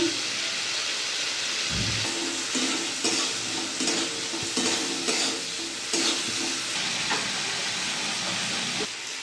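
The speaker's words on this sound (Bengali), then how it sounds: "মশলাটা ভালোভাবে কষিয়ে নেব।" Spice paste of tomato, green chilli and ginger-garlic stir-fried for a Bengali fish curry, loud steady sizzling with repeated scraping stirs and clatters of a spatula in the pan, close and busy throughout.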